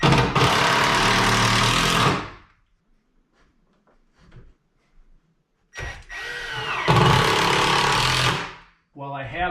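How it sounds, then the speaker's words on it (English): A power drill drives screws into a saloon door and wall in two loud, close whirring bursts of about two and three seconds, separated by quiet handling noises, ending with a brief short whir. "I'm going to drill 3 more screws here, 1 here, and 1 here, and screw this right into the wall."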